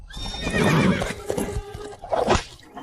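Horse whinnies loudly nearby in a drama scene, a long quavering neigh followed by snorting and a second shorter whinny, with faint hoof clatter beneath and no talk.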